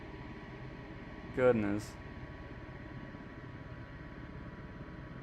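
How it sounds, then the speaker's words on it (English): Steady, loud wind effect from Microsoft Flight Simulator 2024 on Xbox, heard in a cargo aircraft with the cargo door open. It hisses without a break and rises above the engine sound, and a voice briefly exclaims partway through. "This wind sound effect sucks."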